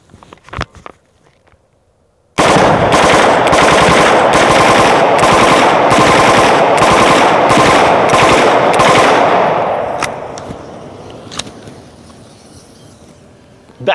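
Loud, sustained automatic gunfire bursts in for several seconds of rapid rhythmic shots in the Mobile Strike video game, then fades into a softer tail with scattered distant impacts; a few faint clicks come before it.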